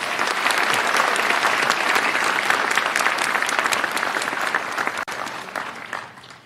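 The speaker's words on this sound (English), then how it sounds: "One more round of applause for Mary" A large crowd at a fall university commencement ceremony gives a loud, sustained ovation of dense clapping that holds strong for several seconds, then tapers off near the end.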